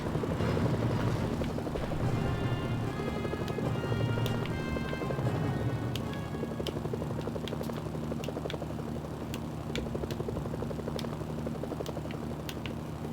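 A helicopter flies in the Mercenaries: Playground of Destruction video game, its steady rotor drone holding at moderate volume with scattered sharp clicks and clatters over it. No voices are heard.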